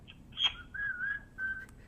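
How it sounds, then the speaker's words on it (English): A person whistles a short, clear tune of a few sliding notes, fairly close and alone against quiet background noise. "He just let out a whistle."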